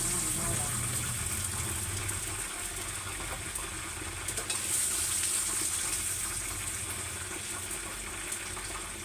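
Garlic sizzling in a hot pan alongside vegetables, a steady broadband hiss of frying that holds throughout at moderate, close level with no talk.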